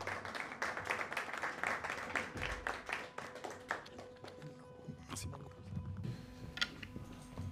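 Applause from an audience at an honorary doctorate ceremony as a laureate is called to the lectern, a burst of clapping that thins out and fades, followed by quieter room noise and a little talk.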